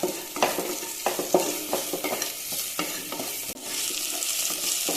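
Curry leaves tossed into garlic frying for tomato rasam: a close, steady sizzle with stirring scrapes, briefly dipping and then swelling a little louder partway through.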